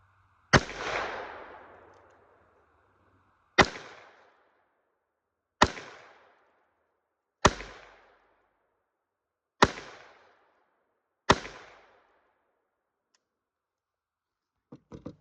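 A Heritage Rough Rider revolver fires 22 Magnum rounds at a block outdoors: six sharp, loud shots spaced about two seconds apart, each ending in a short fading echo, with faint clicks at the end.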